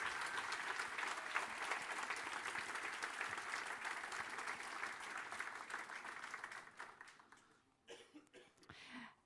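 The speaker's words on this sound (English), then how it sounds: "So I would like a super big round of applause for all the communities that support us" A large conference audience at a Codemotion event in Rome claps in a dense, sustained round of applause that thins out and tapers into scattered claps near the end, heard from some distance.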